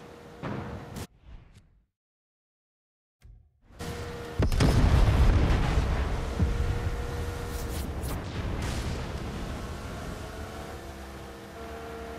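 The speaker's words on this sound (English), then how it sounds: "Check out the fireworks." Fireworks boom and crackle in Far Cry 6 after a brief silence, with loud sustained bursts and rumbling that fill the rest of the scene.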